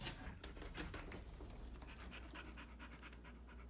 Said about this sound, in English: This panting.